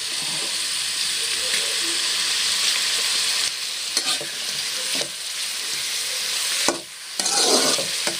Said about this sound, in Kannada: ಶುಂಠಿ ಬೆಳ್ಳುಳ್ಳಿ ಪೇಸ್ಟ್ ಕೊಡು. ಇವಾಗ ಇದೊಂದು ಸ್ವಲ್ಪ ಫ್ರೈ ಮಾಡ್ಕೋಬೇಕು